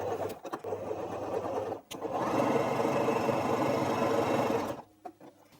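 A Janome J3-18 sewing machine stitches a narrow zigzag in two close, loud motor runs: a short burst, a brief pause, then a longer steady whir that stops abruptly.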